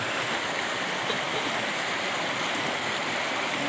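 A river flowing steadily, a continuous close hiss and rush of water with no breaks, moderately loud and heard alone.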